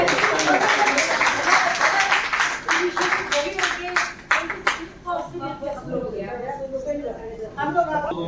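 A crowd at a 42nd anniversary event claps enthusiastically for several seconds, then the applause thins out while voices and chatter take over.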